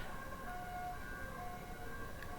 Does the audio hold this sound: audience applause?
no